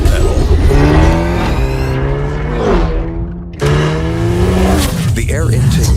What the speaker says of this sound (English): The acceleration starts as soon as your foot touches the pedal.